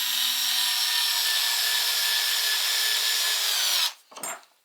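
Power drill drives a screw into a cabinet door hinge with a steady high whine lasting several seconds, then cuts off into a short scraping rattle.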